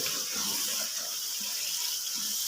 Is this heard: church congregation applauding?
no